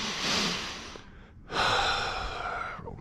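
A man breathes heavily after a strength workout, drawing two long, deep, close-up breaths with a brief pause between them.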